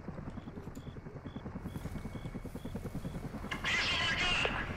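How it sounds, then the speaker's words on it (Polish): A helicopter in the Call of Duty: Modern Warfare mission in St. Petersburg thumps with a steady rapid rotor pulse throughout, joined by a louder burst of noise near the end. "Ten helikopter do was celuje!"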